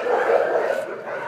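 Dogs barking together in an animal shelter, a dense, steady din of overlapping barks and yips that fills the kennel space without pause.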